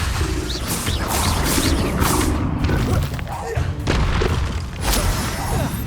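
Spell blasts, explosions and heavy thuds from combat in the video game Hogwarts Legacy, dense and loud with repeated impacts, heard under a voice shouting spell names throughout.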